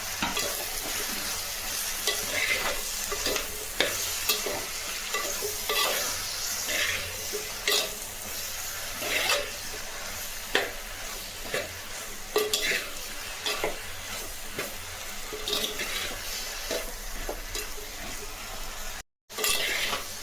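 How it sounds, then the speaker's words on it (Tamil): Brinjal, beans, drumstick and raw mango sauté in a pan for Tirunelveli-style sambar: a continuous sizzle broken by repeated scraping ladle strokes against the pan. The sound is loud and close, with no voices. "காயெல்லாம் வதங்கிடுச்சு."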